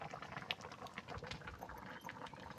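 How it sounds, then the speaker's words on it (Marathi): Water boiling in a pot while mutke dumplings cook, a soft continuous bubbling and simmering close by, quiet and steady throughout. "पाणी उकळले बघा."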